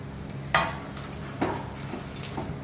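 Peanuts go into hot ghee in a pan while making peanut barfi, giving a couple of sharp clinks and rattles against the metal over a low background hum, with no talking.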